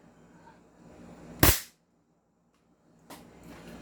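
Airsoft gun fired through a chronograph: one sharp, loud crack, then a fainter second snap about a second and a half later against a quiet background.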